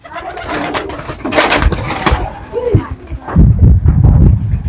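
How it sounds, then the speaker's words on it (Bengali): Pigeons coo at a rural pigeon house on a river char in Gaibandha, a few soft rounded calls rising through outdoor background noise, close by, with people talking around them. "এখানে কবুতরের ঘর রয়েছে"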